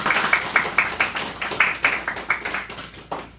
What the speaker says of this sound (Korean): 우리 그 3인에게도 큰 박수 한번 부탁드릴게요